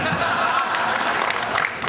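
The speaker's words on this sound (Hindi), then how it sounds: "जोरदार तालियां" Loud, steady applause from an audience at a Hindi poetry gathering (kavi sammelan) at a Swadeshi fair, a continuous dense clapping wash that fills the whole moment.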